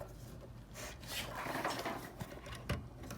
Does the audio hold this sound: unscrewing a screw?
yes